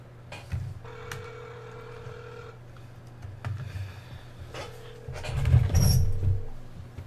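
Telephone dialing tones sound as two sustained electronic beeps lasting a second or more each, fairly faint over a low background hum, with a louder rustling burst near the end.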